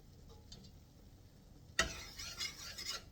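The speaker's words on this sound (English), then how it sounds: "stirring it around. To let that flour brown up." Flour browning in a pan for beef short ribs is stirred with a utensil, a sudden scrape and clatter starting partway through, then continued soft scraping and light metallic ticks close by after a quiet stretch.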